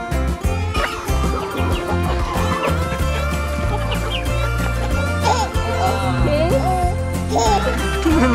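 Chickens cluck on a farm in the Philippines, their calls steady and mixed into a busy, continuous background that includes tonal, music-like sound throughout.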